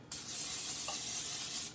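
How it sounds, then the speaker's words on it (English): Olive oil spray misted onto a waffle maker: a single close, steady hiss lasting about a second and a half, alone in a quiet kitchen. "I'm going to spray our waffle maker. I like to use olive oil."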